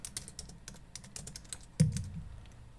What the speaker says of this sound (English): If you begin to type